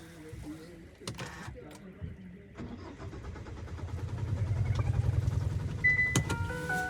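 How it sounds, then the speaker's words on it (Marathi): A car engine cranks repeatedly but fails to catch after recent servicing, with the starter churning rhythmically and growing louder toward the end, alongside a few clicks and switch sounds. "मी गाडी चालू करत होतो, गाडी चालूच नाही होत आहे"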